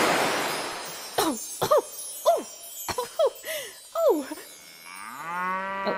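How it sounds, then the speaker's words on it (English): A cow moos in a binaural Christmas Carol theatre production, giving a series of short, close, rising-and-falling moos with brief pauses between them, then one longer drawn-out low call at the end. "And of course, Daisy the cow."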